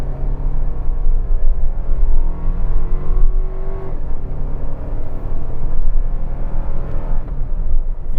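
A 2025 Toyota 4Runner TRD Sport climbs a mountain road under full throttle, its engine droning steadily and loudly with a deep, continuous rumble and rising harmonics throughout.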